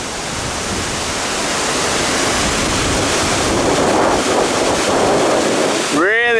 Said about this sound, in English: it's just the sound of these waterfalls that are amazing